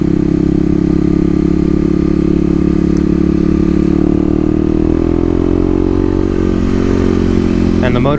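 A 2018 Kawasaki KLX250 dual sport motorcycle riding through city streets, its engine droning steadily and loudly with a rising pitch under a constant rush of wind.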